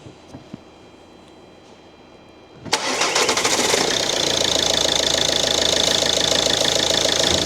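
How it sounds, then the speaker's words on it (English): After a quiet stretch, a car engine fitted with an AdBlue system cranks and catches abruptly, then settles into a steady, loud, rattling idle that continues to the end. "Start your engine."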